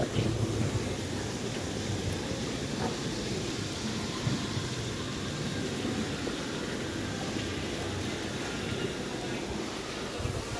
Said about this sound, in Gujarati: જો હજુ વરસાદ બંધ નહીં થતો